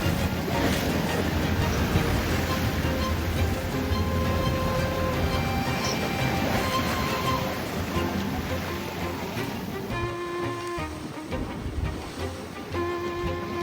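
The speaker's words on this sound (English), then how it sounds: "Getting dead upwind. And it's blowing hard." Strong wind roars and waves wash steadily around a sailboat beating dead upwind through the entrance into Mag Bay, a loud, continuous rush with buffeting on the microphone throughout.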